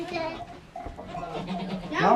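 Week-old newborn goat kids bleat on a farm in cold, rainy weather, with several thin, high cries close by, the loudest near the end, while a person talks in between.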